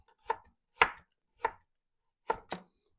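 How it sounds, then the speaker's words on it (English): A kitchen knife chops a carrot on a cutting board, five sharp, close thunks spaced irregularly, the last two in quick succession, with silence between them. "Now I'm going to cut my carrot in half."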